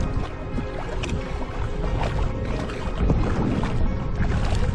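Gusty wind buffets the microphone on a choppy Florida inland waterway while paddling a kayak north, with water splashing and a steady broadband roar that swells stronger in the second half.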